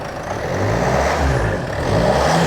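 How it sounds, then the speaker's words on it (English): A nearby Land Rover Freelander 2 engine revs up, its rising whir and rumble swelling in loudness over a couple of seconds. "Let me rev it something."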